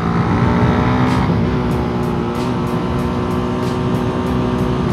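A car engine downshifts on the approach to a deep corner, a loud, continuous drone whose pitch shifts as the revs change, with faint repeated clicks over the top and no talking.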